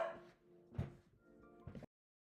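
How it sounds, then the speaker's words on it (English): A household dog barks and yips at window cleaners, a few sharp separate bursts with a quieter whimpering stretch between them, close by and fairly loud with no talk over it. "Window cleaners are here, so dog's obviously gone a bit crazy."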